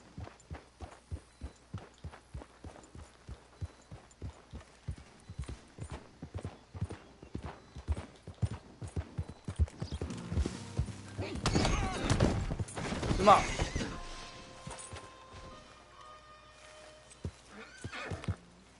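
Hooves of a video game horse clip-clop in a steady trot, then pick up into a busier, louder stretch, and a loud whinny rings out partway through before the trotting goes on.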